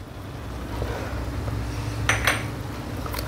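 A spoon stirs Mexican rice with tomato puree, ketchup and red, green and yellow bell peppers in a pan, giving soft scraping and a couple of bright metallic clinks against the pan near the end.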